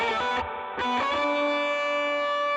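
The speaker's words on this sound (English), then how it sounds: "here's this little octaver thing that I did" An electric guitar played through an octaver pitch effect in Rocksmith Remastered, with a few distorted, doubled-pitch notes followed by one long sustained tone, close and loud with no talking.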